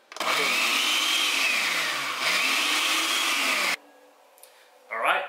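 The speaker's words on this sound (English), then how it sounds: "You want to put it in the blender." Blender whirring as it mixes keto coffee with a scoop of powder, a loud, steady motor roar with pitch dips for about four seconds, then cutting off into quiet with a brief rustle at the end.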